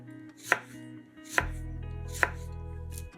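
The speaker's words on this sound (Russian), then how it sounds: "Половинку лимона нарезаем тонкими пластинками." A knife slices half a washed lemon into thin rounds on a board, three crisp separate cuts spaced under a second apart, close and clear, with no voices.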